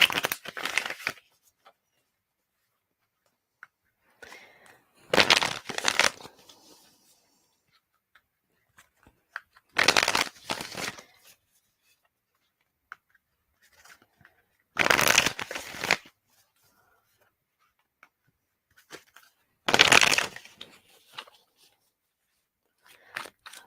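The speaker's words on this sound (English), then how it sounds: "I'm just going to shuffle a few more times." A tarot card deck shuffled by hand in five short bursts of riffling and flicking, spaced about five seconds apart with quiet pauses between, close and crisp.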